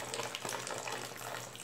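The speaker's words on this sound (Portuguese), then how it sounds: "No total tá sendo colocado mais 4 litros d'água" Water poured from a container into a homemade soap mixture with stain remover and oil, a steady splashing gush lasting under two seconds, close and alone.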